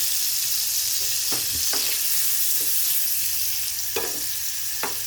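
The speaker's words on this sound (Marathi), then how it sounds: "पनीरला फ्राय करून घेऊ। थोडंसं असं हलका हलका फ्राय करायचं।" Paneer frying gently in a pan, a dense, continuous sizzle at steady volume with several brief spatula taps and scrapes scattered through it.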